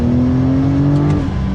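A 3.7-litre Porsche 911 Turbo S (992) engine revs hard and steadily as it accelerates, a loud continuous roar with a rising tone and no pauses.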